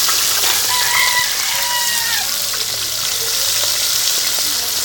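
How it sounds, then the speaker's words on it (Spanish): Fish frying for a fritanga at a ranch, a steady broadband sizzle that hisses on without a break, with faint bird calls drifting in from the background. "Todos los pescados que agarré para la fritanga de ahorita."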